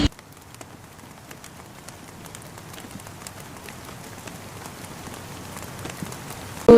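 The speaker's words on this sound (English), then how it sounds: "I woke up and it's really raining." Heavy morning rain falls outside a house, a soft, dense patter of drops on surfaces continuing steadily and slowly building in level, with a sudden louder burst at the very end.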